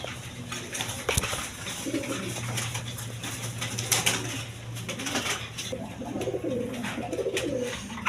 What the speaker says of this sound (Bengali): এখানে এক পেয়ার শার্টিং কবুতর আছে দেখেন